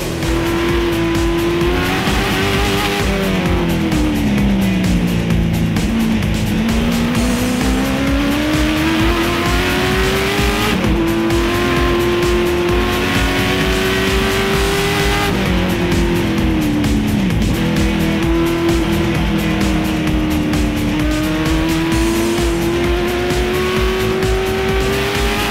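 Race car lapping the track at Infineon during practice before qualifying, its engine note climbing and dropping through gear changes, loud and continuous as it passes repeatedly, with some tire squeal.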